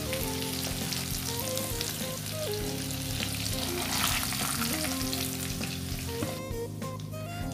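Chicken pieces deep-fry in hot oil, a loud, dense and continuous crackling sizzle that carries on steadily at close range with no talk over it.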